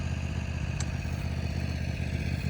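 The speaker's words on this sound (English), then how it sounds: "See, the tractor's out." A tractor engine runs outdoors at a steady, low, rumbling idle with faint mechanical clatter, moderately distant and unchanging throughout.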